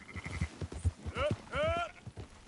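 A flock of sheep being herded in Red Dead Redemption 2, several bleats rising over hoof clatter and shouted voices, close and busy, with people talking throughout.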